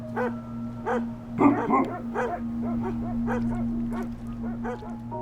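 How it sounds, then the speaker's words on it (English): Tibetan mastiffs guarding yak herds bark in a quick series of repeated, fairly close woofs, with one louder overlapping burst, over a steady low hum. "Tibetan mastiffs guard the livestock."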